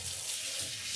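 Hot tap water runs into a sink for rinsing polished silver, a brief steady close splashing rush with no talk.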